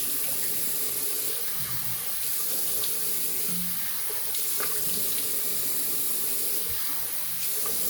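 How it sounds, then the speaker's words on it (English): Warm water runs steadily from a tap into a sink for rinsing the face, a continuous close splashing hiss with slight shifts as hands move through the stream. "I'm going to rinse with warm water first."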